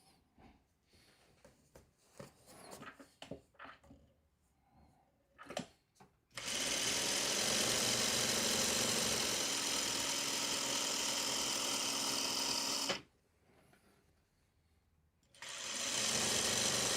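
A sewing machine sews fabric in a steady close whirring run of several seconds, stops briefly, then starts again, after some quiet handling sounds.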